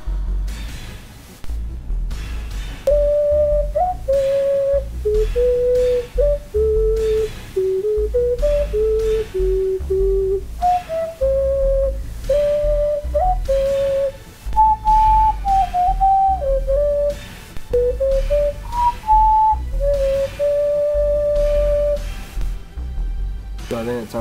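A homemade clay ocarina with a glossy clear coat plays a slow, clear, pure-toned melody of sustained notes close up, over a low background rumble.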